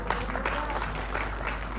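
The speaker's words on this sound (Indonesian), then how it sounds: "Tepuk tangan untuk Tuhan dong." A church congregation claps together during a worship service sermon in Cianjur, a brief burst of many hands at moderate volume with a steady low hum underneath.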